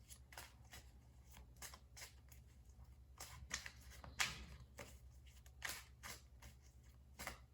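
Tarot cards being shuffled by hand, with soft riffling bursts and crisp card slaps coming in an irregular rhythm, close and quiet.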